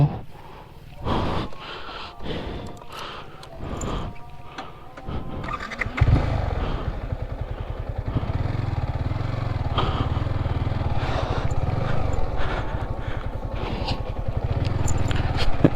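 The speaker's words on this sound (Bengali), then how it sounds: "আমি বাইক স্টার্ট দিব" A motorcycle outside an old mansion is kicked or cranked several times with short bursts before the engine catches, then settles into a steady, close, rumbling idle that carries on to the end.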